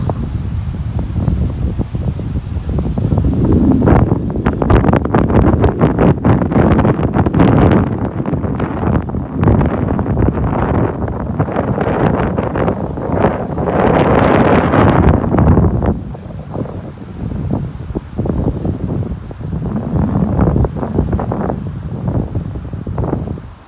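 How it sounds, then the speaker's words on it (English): Strong wind gusts loudly across a beach in North Naples, Florida, a continuous roaring rush that surges and buffets the microphone, easing briefly near the end before building again. "That wind has really picked up out there."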